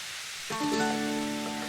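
A pound of ground beef hits a pan of vegetables and starts sizzling after a brief quiet moment, then keeps up a steady, close hiss with a faint tonal ring underneath.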